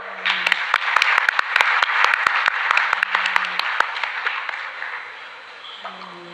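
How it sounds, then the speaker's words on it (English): A crowd at a CA student conference claps steadily with a few sharp individual claps standing out. The applause tapers off near the end. "Please help me welcome with a huge round of applause, Miss Poonam Sharma."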